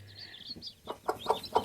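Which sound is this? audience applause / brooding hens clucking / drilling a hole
brooding hens clucking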